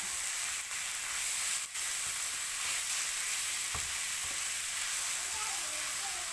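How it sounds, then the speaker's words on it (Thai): Jackfruit stir-fried in a pan until fragrant, with a constant bright sizzle, a few scraping stir strokes and one sharp clack, close and fairly loud, with no talking. "ผัดนี่คือเราผัดให้มันหอมเนาะผัดให้มันหอม"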